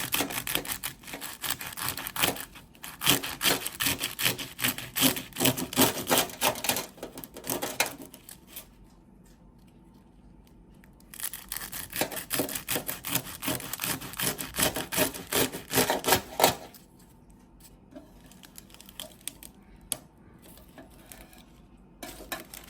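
A knife slicing through layered phyllo pastry with filling, producing crisp, rapid crackling and crunching in bursts separated by quiet pauses, close and fairly loud.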